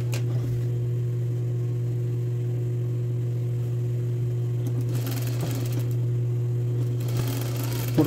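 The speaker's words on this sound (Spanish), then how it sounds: "en la parte revés voy a coser a 7 milímetros" A sewing machine runs steadily, stitching blouse fabric on the reverse side at a 7 mm seam, with a constant motor hum throughout and a brief change in tone partway through.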